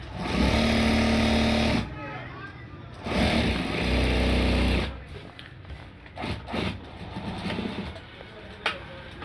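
An electric sewing machine stitches a front strip on a garment in two loud, steady whirring runs of about two seconds each, up close, followed by quieter handling noises, with a person talking nearby.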